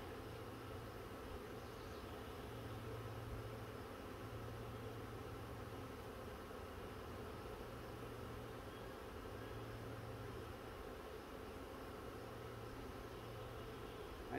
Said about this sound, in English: I just find the honeybee absolutely amazing.